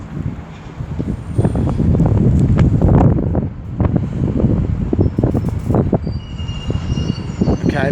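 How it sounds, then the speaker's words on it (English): A Class 168 train departing Birmingham Moor Street station on the 1536 service to Birmingham Snow Hill, a loud close rumble and whine under heavy wind buffeting, swelling then easing. "110 is departing behind me with the 1536 service to Birmingham Snow Hill."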